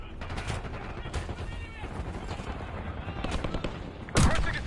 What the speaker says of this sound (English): We've got gunfire to the right.